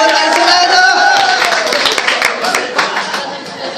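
An audience at a Nepali ghazal performance event claps in a dense, continuous round of applause that gradually thins out, with murmured chatter and voices mixed in.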